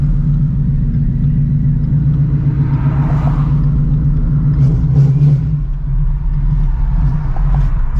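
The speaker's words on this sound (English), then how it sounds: "Almost stalled this shit out pulling up." A 900-horsepower Shelby GT350 rumbles low and steady at close range as it pulls up on a Texas street, the engine lugging near stalling with a slight dip in the idle, with no voices heard.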